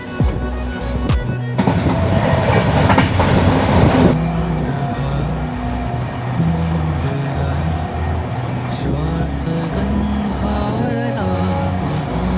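The Duronto Express rumbles through Karmali station, a steady onboard rolling drone with rhythmic low clatter and a few sharp squeals early on, recorded from inside the moving train.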